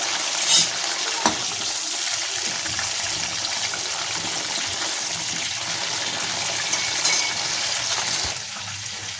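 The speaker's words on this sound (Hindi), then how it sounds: "उसी गरम तेल में हम बैंगन डाल देंगे ताकि ये भी अच्छे से फ्राई हो जाए।" Steady, dense sizzling and crackling of eggplant frying in hot oil, close up, with a few sharp spatters and pops throughout, no voices.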